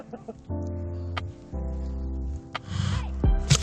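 An angry duck close by makes a few low, raspy huffing calls in separate bursts, followed by some rustling and scuffling.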